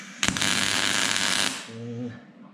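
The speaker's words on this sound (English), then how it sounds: "And now I can weld it" Sheet metal pieces for a homemade sheet metal brake are welded, giving a loud crackling, sputtering burst of about a second and a half, followed by a lower hum as the arc stops.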